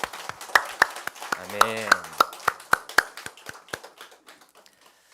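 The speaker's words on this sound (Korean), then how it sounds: "이 새벽에 우리 다시 한번 영광과 기쁨과 감사의 박수를 주님께 올려드리기를 원합니다" A church congregation at an early-morning service claps in unison, sharp evenly spaced hand claps that ring in the hall and gradually fade quieter, with a brief spoken response in between.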